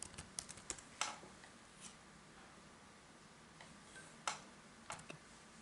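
Keystrokes on a computer keyboard while typing MATLAB code, a faint, sparse run of light clicks in short bursts with quiet gaps between them and no talk.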